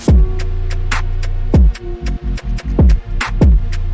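Heavy 808 bass notes with a gritty, saturated edge from the Beric TDS plugin sliding downward, punctuated by sharp hats and snare hits in a steady loud beat.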